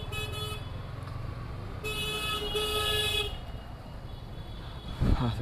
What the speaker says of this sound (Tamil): செம்ம டிராஃபிக்கு.